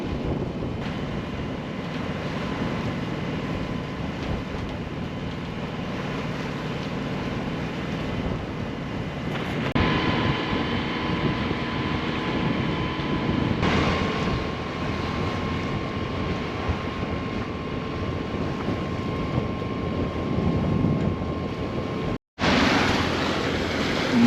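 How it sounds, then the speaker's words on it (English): A boat motors down a bay as the wind picks up and white caps form; a steady engine drone runs throughout, mixed with heavy wind buffeting on the microphone and no talking. "Motoring down the bay once again."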